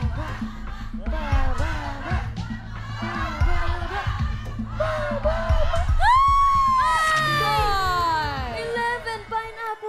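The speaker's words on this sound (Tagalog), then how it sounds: "Ang lakas ng sigaw nyo." A studio audience at a Filipino noontime variety game show shouts and cheers loudly, many voices yelling together in rising bursts up close.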